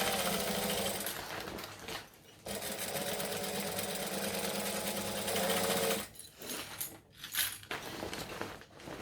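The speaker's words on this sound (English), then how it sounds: "we're just doing 1/8 of an inch right on the edge, stitching all the layers together" A sewing machine runs in long, fast, steady bursts, stitching layers of fabric together along the edge of a circular piece, pausing briefly before a few shorter, choppier runs.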